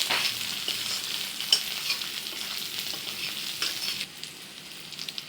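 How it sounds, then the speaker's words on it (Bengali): Potatoes fry in oil for a Bengali egg and potato curry, a dense close sizzle with scraping stirs and a faint clink, the hiss easing slightly toward the end, no talking. "আলুগুলো দিয়ে দিয়েছি এখন এটাকে সুন্দর করে ভাজবো"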